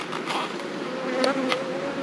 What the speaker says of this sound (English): I've got to let that bee out in a moment